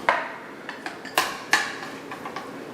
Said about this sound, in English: Searching for a fork or a spoon.